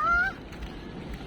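A goose gives a single honk, loud and close, followed by quiet outdoor background at Melasti Beach, Bali.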